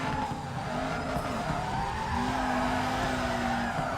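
A car drifts in the racing game FURIDASHI Drift Cyber Sport, its steady engine drone joined by a sustained tire squeal that runs for several seconds at a constant, fairly loud level.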